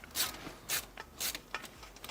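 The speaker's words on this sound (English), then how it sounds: "what we're doing here is putting our intake fans on" PC intake fans being installed onto a case fan bracket produce faint scraping, ratcheting clicks and rubbing in short bursts, close by and with no talk.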